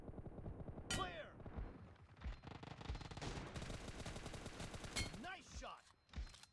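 Rapid bursts of gunfire in BGMI (PUBG Mobile) during a team deathmatch, loud and close, with several volleys and sharp shots across the clip, mixed with game effects and some background voices.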